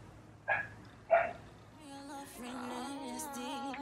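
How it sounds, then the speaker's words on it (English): Dogs outside bark twice in sharp, separate yelps, then whine and bark faintly further off while a person talks indoors over them. "please excuse the dogs that y'all hear outside"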